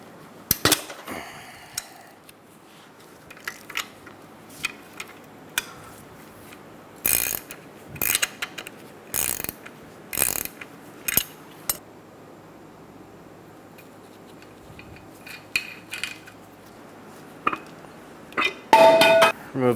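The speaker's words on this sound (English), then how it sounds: "Using a 17mm wrench and a T45, we're going to remove the nut" Sharp metallic clinks and ratcheting clicks come in scattered bursts from a 17mm wrench loosening the nut on a front strut spring of a 2007-2012 Nissan Altima, with quiet gaps between the tool strikes and no talking.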